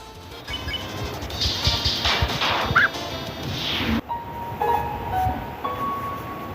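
A dog barks in the video game Undertale, a short run of yaps with bright, chirpy electronic tones and a sudden crash-like hit partway through, fairly loud and with no talk.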